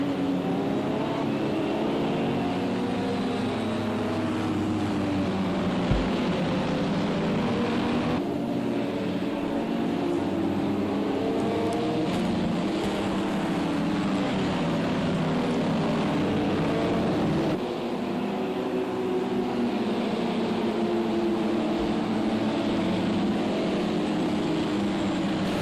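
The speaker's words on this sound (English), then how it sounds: "Nice wide shot of that beautiful LMP2 field coming through the midnight Watkins" LMP2 prototype race cars from Project CARS 2 run at night around Watkins Glen, a pack of engines droning and shifting pitch together in a steady, loud, continuous field sound.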